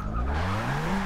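Tires squeal and skid as a rear-wheel-drive car spins through a 360 in the Forza Motorsport 6 racing game, a loud continuous screech with a sliding pitch and engine tone beneath.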